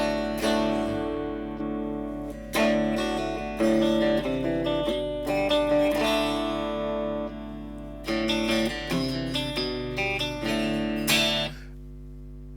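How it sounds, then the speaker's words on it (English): A clean electric guitar plays picked phrases and strummed chords with a boxy, direct tone from the IR cabinet simulation of a Cube FX multi-effects pedal, then stops abruptly near the end. "Let's have a listen to the IR cab"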